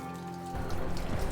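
Raindrops patter on a surface in a brief, close, dense spray of tiny taps that swells slightly louder partway through.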